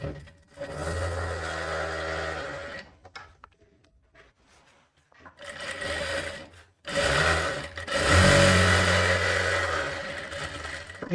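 A sewing machine stitches a katori blouse in loud, close bursts of rapid mechanical whirring. Two long runs are separated by a quiet pause with faint handling noise, and a brief stop comes just before the final run.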